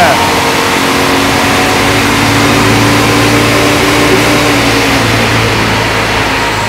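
A Mercedes SL500 engine is held at a set RPM for a dyno measurement, a loud, steady droning hum that stays at a constant pitch and level throughout, close to the microphone.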